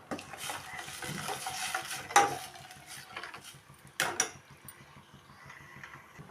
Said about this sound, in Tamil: போட்டு ஒரு கிண்டு கிண்டி விட்டுப்போம்